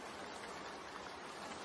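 Steady summer rain falling, a soft continuous hiss with no distinct drops, faint and unbroken throughout.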